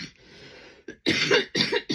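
A person coughs several times in quick harsh bursts after a brief breathy pause, close and loud.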